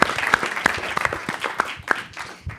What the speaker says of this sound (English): you might want to give him an extra round of applause